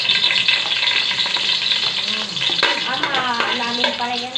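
Garlic sizzles steadily in a hot pan for stir-fried rice noodles (pancit bihon), with a spatula scraping and stirring through it in close, continuous bursts and no talk.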